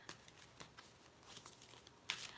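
Cards being shuffled for a card reading: a short, quiet riffle of papery flicks close by, with no talk.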